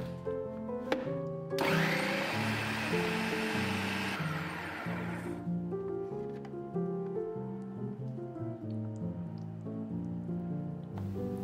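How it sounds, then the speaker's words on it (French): A blender whirs continuously, puréeing cooked vegetables with some of their cooking water; a loud grinding churn at first that smooths into a steadier hum, with a musical backing running underneath. "Puis, mixez le tout."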